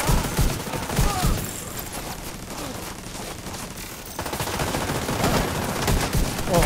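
Player gunfire and enemy shooting in the cover-based shooter The Division 2 come as bursts of rapid, punchy shots. They are loud at the start and end, with a quieter stretch in between.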